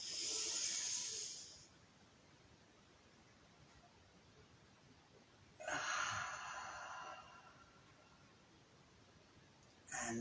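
Deep breathing during a breathing exercise: a long, loud inhale, a pause, then a slow exhale, followed by the start of another breath, all close to the microphone with no talk.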